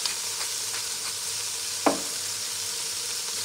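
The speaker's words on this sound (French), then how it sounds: "Je remue." Shrimp bisque is stirred in a frying pan over a soft steady sizzle, with faint scrapes and one sharper utensil knock partway through.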